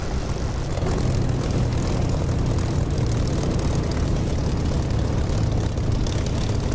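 A propeller aircraft taxies after landing in the DCS flight simulator game, its engine a loud, steady low drone that holds unbroken throughout with no voices.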